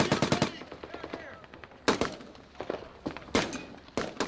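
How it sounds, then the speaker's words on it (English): Heavy machine gun fire in Iraq, 2003: loud, close bursts of rapid shots, a quick rattling volley at the start, then short separated bursts with sharp reports and echoing tails across open ground. "Heavy machine gun fire traced across the dusty landscape, suppressing the Iraqi gunmen"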